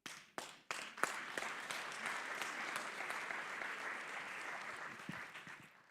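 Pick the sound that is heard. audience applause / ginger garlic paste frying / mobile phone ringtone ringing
audience applause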